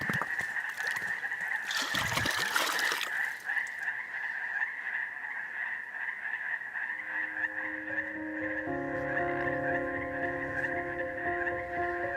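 A dense chorus of frogs croaking from a distance, steady and continuous, with a brief rustling burst early on and other calls layering in later.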